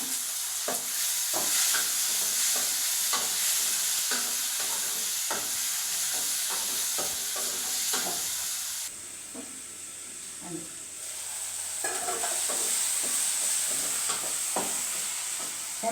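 Tomatoes and onions fry in a pan with a steady loud sizzle and hiss, broken by repeated scraping stirs; the sizzle drops briefly near the middle before building again.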